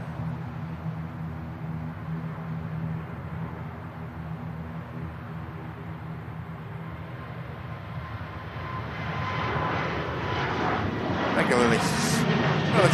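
A Saudi airliner touching down at Manchester Airport, its jet roar low and distant at first, then swelling louder toward the end, with wind buffeting and faint voices nearby.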